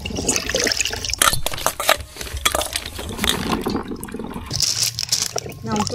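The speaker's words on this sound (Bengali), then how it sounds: "তবে ভালো মতো ধুয়ে নিতে হবে, লালা লালা থাকে" Hog plums (amra) being washed by hand in water outdoors in a mango orchard, with sloshing, splashing and trickling water, close and fairly loud, while people talk over it.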